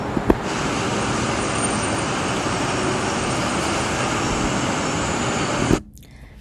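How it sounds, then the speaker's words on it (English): Steady, loud street ambience with continuous roadway traffic noise and passing vehicles, a broad constant roar that holds evenly and then cuts off abruptly near the end. "There will be several sound compositions like sound of the street,"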